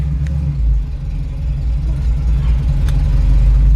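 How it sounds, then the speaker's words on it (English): An old 1949 Ford F1 truck engine idles with a steady low rumble, its pitch and loudness rising and falling slightly in a gentle, uneven surge. "You can kind of hear the engine is surging just a little bit."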